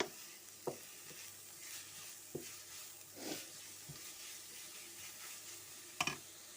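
Soft frying sizzle hisses steadily while a utensil scrapes and knocks against the pot every second or so as borscht ingredients cook, nearby and fairly quiet.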